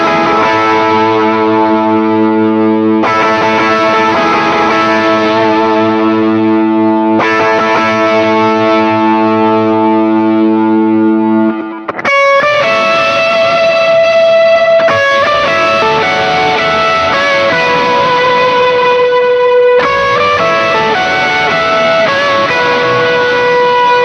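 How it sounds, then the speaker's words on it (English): Electric guitar through an HX Stomp with a lead overdrive tone, then a gain boost pedal kicked on for more compression and gain. Loud sustained chords ring out first, followed by a brighter, more saturated melodic lead line, with no talking. "I'm gonna add on my kind of lead overdrive sound, and then we'll kick on the boost"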